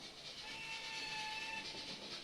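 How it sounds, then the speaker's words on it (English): A model railway train whistle sounds as a steady, thin high tone held for about two seconds, moderately faint over a constant background hiss, with no voices. "Don't know if you heard that whistle, but there you go."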